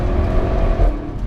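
A car engine roars loudly and close, building steadily as it accelerates in a short, continuous burst, with no voices.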